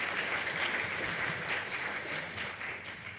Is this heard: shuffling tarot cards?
no